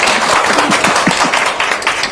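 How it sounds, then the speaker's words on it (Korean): A lively burst of audience applause at a youth meeting with politician Hong Joon-pyo, loud, dense clapping from many hands throughout, with no voices. "박수 한번 다시 드릴까요?"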